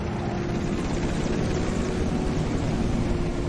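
Military aircraft and land vehicles return in force from a training exercise, heard as a loud, steady drone of aircraft engines with a low rotor-like rumble filling the whole stretch.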